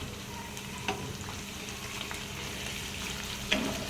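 Capsicum frying under a lid in a covered pan, a low steady sizzle with a couple of sharper pops and clinks near the start and end, no voices.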